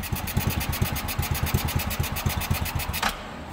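Small engine fitted with a Chinese carburetor running on a stand, slightly smoky and needing carburetor adjustment; a close, loud, rapid regular putter that cuts off abruptly near the end.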